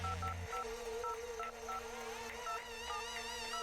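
Phone number being dialed in the video game Red Strings Club: a rapid series of evenly spaced DTMF keypad tones beeping in a steady rhythm, clear and alone over a faint electronic hum.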